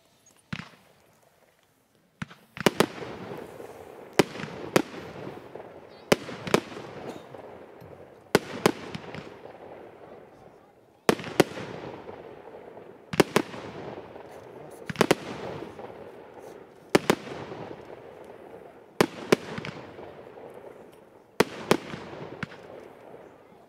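A 13-shot, 30 mm fireworks battery fires a regular sequence of loud, sharp bangs, each followed by crackling tails, spaced about two seconds apart, with a final few shots.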